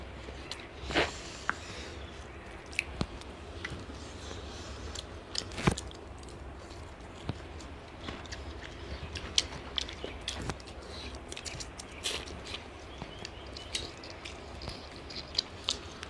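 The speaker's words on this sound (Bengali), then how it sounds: "হাঁসগুলো চিবাতে জাস্ট ওয়াও লাগে।" Quiet wet chewing and occasional crisp bites come from someone eating duck meat curry with rice during an eating challenge, close up, with irregular squishy mouth sounds and no talk.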